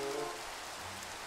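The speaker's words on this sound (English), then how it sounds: "it's still raining" Rain falls steadily in the Flaggcraft Sky Adventures game, an even, hissing wash of drops that holds at a constant moderate level with no talk.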